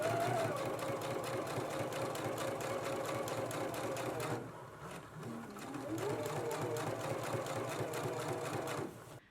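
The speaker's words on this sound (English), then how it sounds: "let's head to the sewing machine and start stitching now" Rapid mechanical whirring and clattering of a sewing machine stitching, running steadily, pausing briefly, then resuming before stopping.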